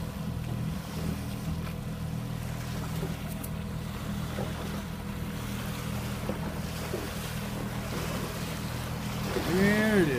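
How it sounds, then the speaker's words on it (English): Two brand-new Clark Marine motorboats run on open water, a steady low engine drone mixed with wind buffeting and wave wash that swells slightly near the end. "So two brand new Clark Marine boats going out this morning"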